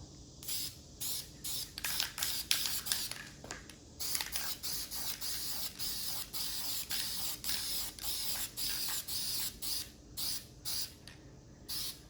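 Tan base coat being spray painted onto CAR-15 rifle parts: a series of close, hissing aerosol bursts, some short and some held longer, separated by brief pauses, with no talking.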